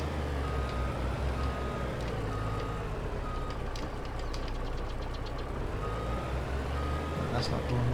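Truck reversing beeps in Farming Simulator 22, a series of regular electronic beeps over a close idling, knocking engine.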